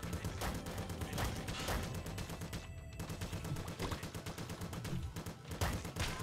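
Splinter gun fire in the video game Nuclear Throne, rapid bursts of shots in a dense, rhythmic rattle under game effects, continuing nearly nonstop apart from a brief gap.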